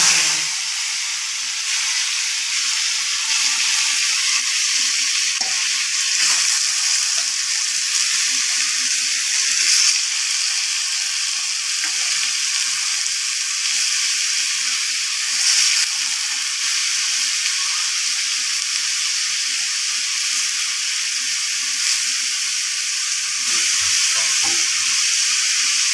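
Squeezed ash gourd pieces frying in a wok, a loud, steady sizzling hiss that runs on without a break, close up, with faint occasional clicks and no voices.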